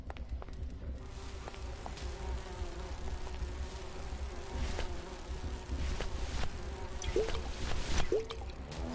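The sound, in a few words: bees buzzing in Grim Fandango video game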